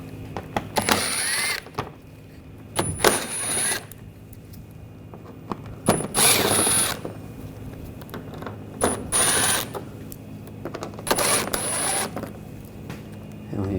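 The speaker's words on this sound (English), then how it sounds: "Using a T20 socket," T20 socket backing out headlight assembly screws on a 2014-2020 Nissan Rogue: several bursts of close ratcheting clicks separated by short pauses, with no talking.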